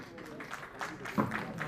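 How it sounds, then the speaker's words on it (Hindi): Applause from an auditorium audience at a Uttarakhand horticulture society ceremony, a brief burst of clapping under a speaking voice. "जोरदार तालियां मंच के लिए।"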